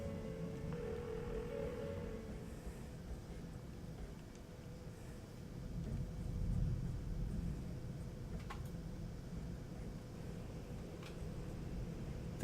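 An unanswered phone rings in the Persona 4 video game, a repeated electronic tone most distinct in the first couple of seconds and then fading into a low, muddy background rumble. No one speaks.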